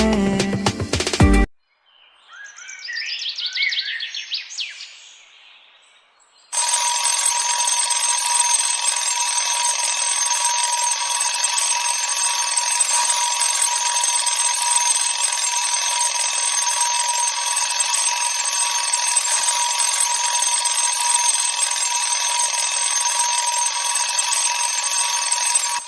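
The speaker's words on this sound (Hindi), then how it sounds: "अलार्म बज रहा है।" An alarm clock rings continuously and loudly, a steady shrill electronic tone that starts after a few seconds and holds for about twenty seconds with no talk. Brief music and a quieter chirping sound come before it.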